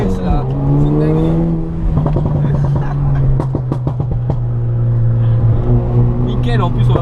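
A Renault Mégane RS engine drones and revs while driving, its steady pitch rising and falling through gear changes, heard from inside the car with people talking over it.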